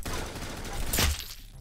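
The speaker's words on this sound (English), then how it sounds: "the fireworks ain't gonna stop" Rapid crackling bursts of fireworks in the Roblox game Jailbreak form a dense, continuous barrage, with one sharper, louder blast near the middle before it eases slightly.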